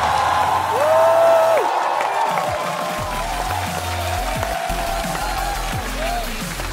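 A studio audience at a Chinese roast comedy show claps and cheers to welcome a guest on stage, loud and sustained over a musical sting, with crowd noise swelling then settling.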